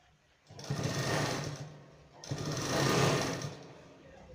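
Sewing machine stitching a single line along the edge of a school shirt, running in two steady bursts with a brief pause between, close and alone.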